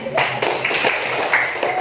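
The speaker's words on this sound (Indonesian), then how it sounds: "Iya, tepuk tangan" Students clap their hands together in a classroom, a dense run of sharp slaps lasting a couple of seconds at close range, with a voice briefly audible among them.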